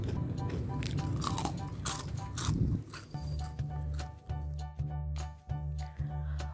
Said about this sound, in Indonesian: kita dengar gimana garingnya, renyah, dan pastinya enak banget